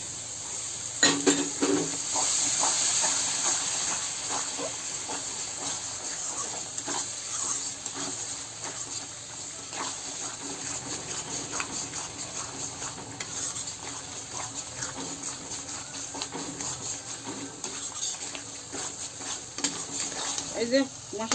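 Whisked yogurt goes into a spiced masala frying in a pan for a Bengali fish curry, giving a soft sizzle under repeated stirring and metal scraping, close and moderate in level, with no voices.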